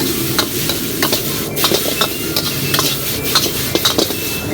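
Noodles with pork and vegetables stir-fried over high heat in an iron wok, with constant sizzling and frequent scraping, clinking strokes of a spatula in a quick, irregular rhythm.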